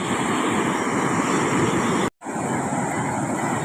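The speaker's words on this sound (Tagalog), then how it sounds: "Palaki, palaking tubig eh, kaya malaking alon." Large sea waves crash on the shore in a continuous loud roar mixed with wind buffeting, briefly cutting out for an instant midway before the surf noise resumes.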